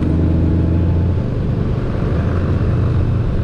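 A Honda Goldwing motorcycle climbing a steep mountain grade on the Foothills Parkway in the Smoky Mountains, a steady loud low engine rumble mixed with wind, continuous and close, with no talking.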